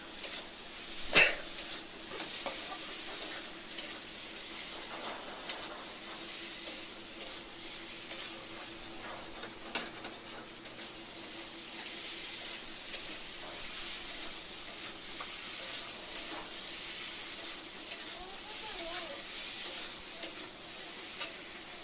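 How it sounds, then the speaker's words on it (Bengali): Shrimp with ginger paste, chili powder and spices fry in a pan for a Bengali banana-stem curry, sizzling softly and steadily. A sharp stir or clink of the utensil comes near the start, and quieter scrapes follow throughout. "আর লঙ্কার গুঁড়ো দিয়ে কষিয়ে নিচ্ছি।"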